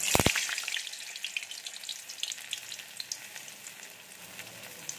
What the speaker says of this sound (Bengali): তেল গরম হয়ে গেছে, আমি একে একে পুর ভরা পটলগুলো দিয়ে দেব।